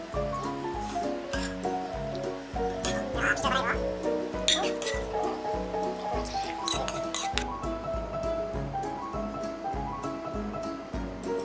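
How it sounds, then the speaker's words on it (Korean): Jjamppong soup and toppings are poured over noodles in a bowl, with liquid splashing and light clinks of utensils against dishes, while music plays steadily throughout. "짬뽕을 먼저 건더기부터 위에 이렇게 부어주세요"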